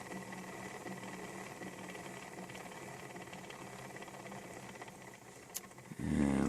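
Gears of a Rex Talking Machine record player running after repair, a steady close mechanical whir and rattle with a faint hum that holds evenly, then ends in a brief louder rumble.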